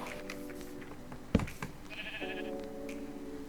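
Sheep bleating in Minecraft, a few short harmonic bleats over steady game ambience with a sharp thump partway through, no talking.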